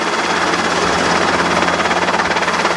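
A Robinson R22 helicopter in flight gives a loud, steady rotor and engine drone heard from inside, with a rapid pulsing rhythm and no talk.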